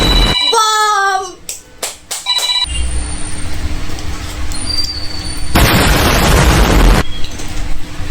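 Bomb explosion effects in a game: a few sharp booming bursts, then a longer roaring blast, mixed with bright electronic game tones and chimes.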